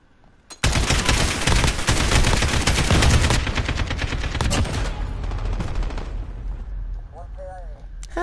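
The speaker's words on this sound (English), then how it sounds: "AK is good for rapid burst." A video game AK rifle fires a loud, sustained rapid burst of dense automatic shots close up for several seconds, then fades into echoing rumble, with a voice speaking briefly near the end.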